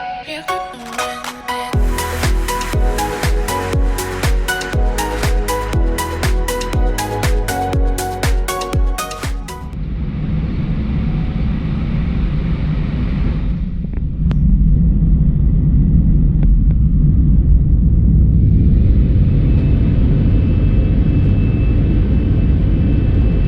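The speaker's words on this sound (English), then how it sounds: "And then it was finally time for the takeoff, and of course we're gonna see it with the original sound." Sundair Airbus A320 takeoff heard from inside the cabin: cabin music gives way to a loud rising engine roar and rumble of the takeoff roll, then a steady heavy drone as the jet climbs.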